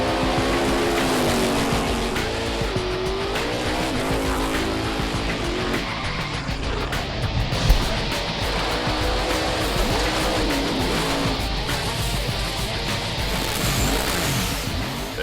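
Outlaw 10.5 drag cars roar down the strip on qualifying runs, a sustained loud engine howl with rising revs and passes blending together, heard without talking.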